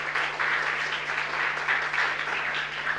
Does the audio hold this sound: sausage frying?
no